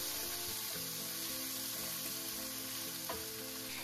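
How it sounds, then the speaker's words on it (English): Beef, garlic and a splash of rice wine sizzle steadily in a hot stir-fry pan, with a continuous close frying hiss and occasional scraping stirs. "Also add a touch of rice wine and stir fry until the rice wine evaporates."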